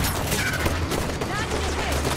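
Rapid gunfire from a Halo 5: Guardians firefight, a dense stream of shots and bursts at steady loudness with faint voices underneath.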